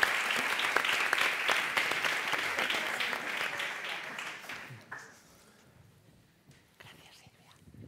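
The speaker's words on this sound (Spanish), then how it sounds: "Vamos a dar un aplauso también a" An audience at a cava tasting event gives a warm round of applause that stays full and lively for several seconds, then fades quickly into a hushed room with faint murmuring.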